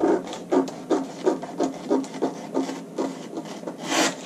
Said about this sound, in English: Let's go ahead and cut out our neckline.